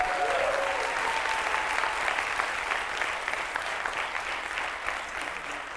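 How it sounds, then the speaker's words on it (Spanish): A large crowd applauds steadily, a broad wash of clapping that stays loud and even before easing slightly toward the end. "quiero pedir un aplauso"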